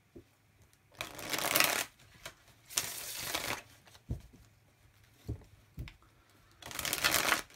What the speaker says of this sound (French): Alors je vais un peu plus mélanger, parce que je suis déjà à 2 jeux là.